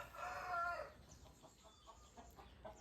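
A 2.5 kg fighting rooster lets out a short, strained crow, then follows with a string of soft, scattered clucks, all fairly faint.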